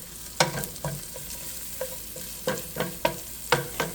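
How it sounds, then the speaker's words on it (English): Softened vegetables are stirred with a spoon in a pot of Louisiana-style jambalaya, giving a string of scraping strokes over a low sizzle, close and fairly loud, with no talking. "Give that a little stir."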